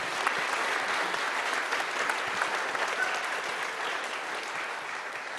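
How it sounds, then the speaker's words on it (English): A sustained round of audience applause at a forum for New Mexico governor candidates, steady and even throughout, with clapping filling the room and no talk over it. "Let's give you all a round of applause."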